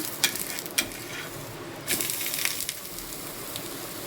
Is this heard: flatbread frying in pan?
yes